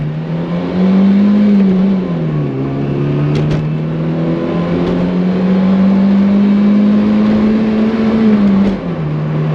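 A Fiat X1/9 with a swapped camshaft pulls hard out of a turn from first gear, its engine note rising loud and steady, easing briefly, then climbing again through the rev range with no talk.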